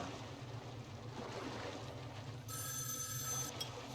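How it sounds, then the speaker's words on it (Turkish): A telephone rings in the video game Metro Last Light Redux, a bright electronic trill that comes in partway through over a steady rumbling ambient background. "Telefon çalıyor."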